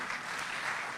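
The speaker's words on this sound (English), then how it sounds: "Please keep clapping." Steady, dense applause from a crowd at a formal event at KICC in Kenya, clapping continuously at a moderate level with no voices.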